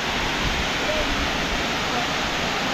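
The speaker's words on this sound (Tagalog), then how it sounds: "This is the tallest falls in Bohol." Can-umantad Falls in Bohol, Philippines, roars as a loud, steady broadband rush of falling water filling the whole clip, close and unbroken.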